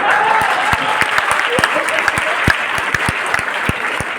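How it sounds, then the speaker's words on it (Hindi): An audience at a lecture-style session applauds steadily, with sharp individual claps standing out against a dense bed of clapping. "देखो खुद के लिए कैसे तालियां बजा रही है"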